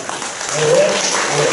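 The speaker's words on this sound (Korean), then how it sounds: "우리 먼저 박수를 뜨겁게 한번" A church congregation at a Wednesday worship service applauds warmly, a steady wash of many hands clapping, with a voice speaking faintly over it.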